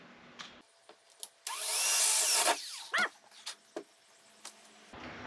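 A power drill whines at high speed for about a second, amid scattered knocks and clatter aboard a boat; a dog barks once nearby.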